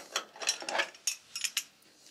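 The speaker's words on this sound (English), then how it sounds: "put the spanner in so that it's in one of the grooves" A spanner works the grooved rear shock preload adjuster on a Kawasaki Vulcan S motorcycle, giving a short run of light metallic clicks and scrapes, close and fairly quiet, with no talking.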